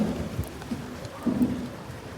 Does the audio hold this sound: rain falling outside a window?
yes